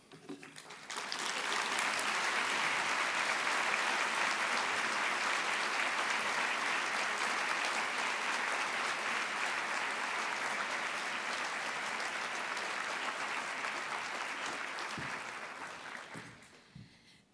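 An audience at a legal aid society's annual luncheon applauds: steady, dense clapping that swells quickly, holds for about fifteen seconds, then tapers off.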